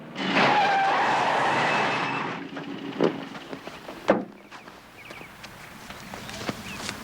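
A car brakes hard and skids to a stop, a long tire screech fading after about two seconds, followed by a few sharp knocks and clunks.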